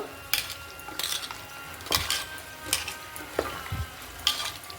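Salted potato pieces fry in hot oil with a steady crackle, punctuated every second or so by the sharp clinks and scrapes of a utensil stirring them in the pan, close and without talk.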